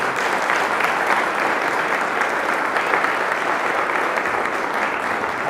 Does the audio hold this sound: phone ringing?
no